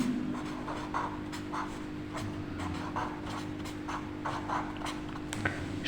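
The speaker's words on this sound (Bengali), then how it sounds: "সমাধানটা লিখে নিই।" A pen scratches across paper, close up, in quick rhythmic strokes while a math solution is written out, a square root of 169 found by prime factors. No one speaks.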